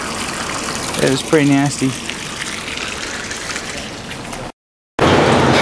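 Rusty water and old coolant gush steadily out of a Ford F150 radiator during a flush, a continuous near splashing rush with someone briefly talking over it.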